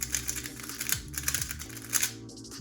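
Clicky, rapid turning of a GTS 3 speed cube, a steady run of close, crisp clacks and snaps with a few louder bursts, heard alone without talk.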